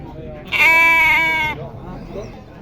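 Sheep at a livestock market at Pasar Muning, one loud close bleat lasting about a second, with quieter market noise and muffled voices around it.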